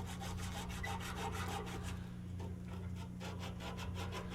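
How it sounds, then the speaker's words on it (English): A dryer idler pulley rubbed with sandpaper, producing quick repeated rasping strokes in a steady rhythm over a constant low hum, faint and close. "you can clean it up with some sandpaper like this"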